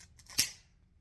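A PEX crimp tool cuts through a crimp ring with a single sharp metallic snap, one brief close click standing alone in a quiet room.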